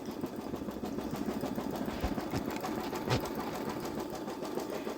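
A Babylock Solaris embroidery machine stitches an appliqué bow on a sweatshirt with a rapid, steady mechanical whir and fast needle rhythm, moderately close and uninterrupted throughout.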